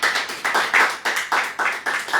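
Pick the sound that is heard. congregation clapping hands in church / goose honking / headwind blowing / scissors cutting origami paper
congregation clapping hands in church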